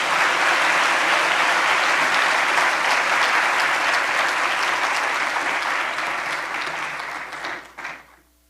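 A large audience at a UN World Data Forum 2024 closing ceremony applauds steadily, loud and dense, for about seven seconds before the clapping thins and tapers off into silence.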